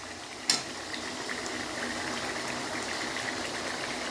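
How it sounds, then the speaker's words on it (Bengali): Meat being braised down in a pot with spices on a cold night, a steady low bubbling and simmer holding at an even level, with one brief sharp clink near the start and no voices. "এখন মাংস কষছি, এখন ঝোল হবে না, একটু মাখা মাখা মতন হবে।"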